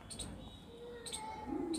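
Pigeons coo softly from a loft of king-size high flyer birds, a few low, rounded coos near the end of the moment, with faint chirps and background hum around them.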